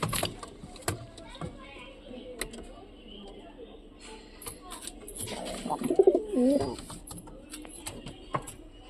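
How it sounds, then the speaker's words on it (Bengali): Domestic pigeons coo in a few soft, low bursts around the middle, with faint scattered sounds and speech-like background noise. "তো কবুতরগুলো তোমাদের কেমন লাগছে"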